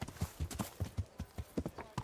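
Hooves of a horse ridden in Kingdom Come: Deliverance clip-clop in a steady, even rhythm, close and clear, with no voices over them.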